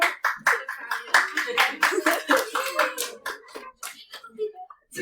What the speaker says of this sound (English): This class isn't clapping enough.